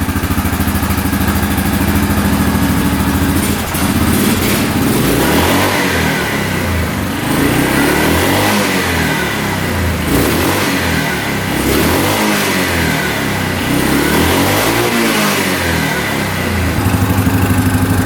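A four-wheeled ATV engine left running after a repair, revving up and down in repeated swells over a steady idle, loud and close with no talking.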